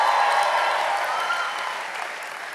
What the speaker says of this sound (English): Can we give this amazing worship team a huge round of applause?